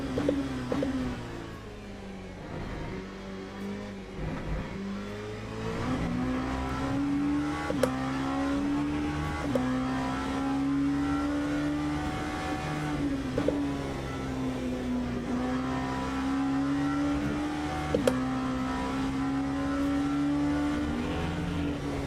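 An LMP2 prototype race car engine in the Le Mans Ultimate sim drones steadily, its pitch rising and falling through gear changes with sharp shift clicks, a continuous mid-level whine without speech.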